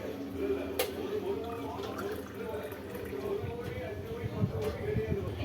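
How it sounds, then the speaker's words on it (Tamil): Milk is poured into a glass of homemade rose syrup, giving a soft, continuous liquid trickle with faint drips, low in level. "இதில் இப்போ நம்ம பாலையும் ஊற்றிக்கலாம்"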